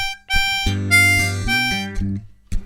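A harmonica plays a short blues response lick, a quick run of clear notes that steps downward in pitch and ends after a brief pause with one final note.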